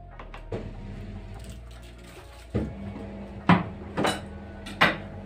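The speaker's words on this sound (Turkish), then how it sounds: "Bulaşıkları yıkadım." Dishes clink and clatter in a sink, with several sharp knocks spread over a few seconds against a quiet background.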